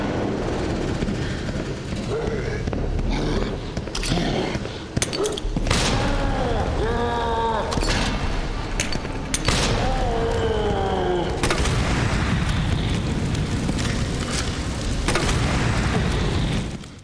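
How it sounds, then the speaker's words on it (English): Grenade and flame-round blasts in Resident Evil 2 during a boss fight, loud rumbling booms and bursts layered with roaring game sounds and creature cries, continuous and dense throughout. "Use both grenades and 9 flame rounds to finish him off."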